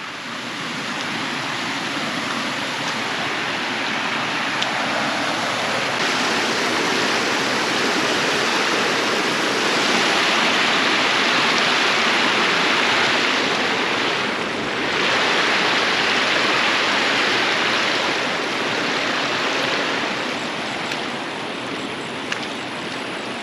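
A forest stream beside a campsite rushes steadily, a loud, broad, unbroken wash of flowing water close by that holds for the whole stretch. No talking.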